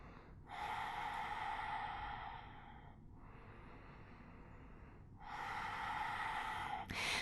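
Deep yoga belly breathing, heard close up: a long, loud inhale, a softer, quieter exhale, then another strong inhale, slow and rhythmic with no talking.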